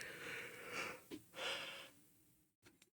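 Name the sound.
yawning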